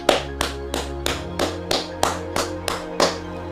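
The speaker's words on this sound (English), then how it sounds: "That was me clapping" A single person claps hands at an esports match, ten sharp, evenly spaced claps in a steady rhythm, close and moderately loud, over a faint background hum.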